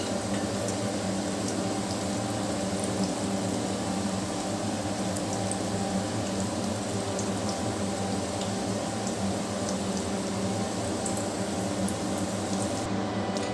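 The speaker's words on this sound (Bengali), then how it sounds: "এইভাবে কম আঁচ করে আস্তে আস্তে আমি বড়াগুলোকে ভেজে নেব।" Cabbage kofta balls frying slowly in oil on low heat, a steady, gentle bubbling crackle that holds evenly throughout, close and moderately quiet.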